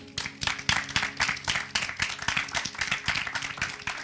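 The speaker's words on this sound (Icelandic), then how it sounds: "Gefið Solu gott klapp." An audience claps steadily, many hands together in a brisk, continuous round of applause, close and fairly loud.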